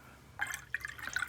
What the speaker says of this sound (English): I'm going to mix a bit more water in that.